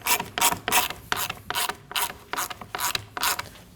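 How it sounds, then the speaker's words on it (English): A ratchet tightening bolts into plastic on a Kia Optima door: about nine quick, even strokes of sharp metallic clicking, close and loud, with no talk. "Just make sure you do not over tighten this, because you are putting bolts onto plastic"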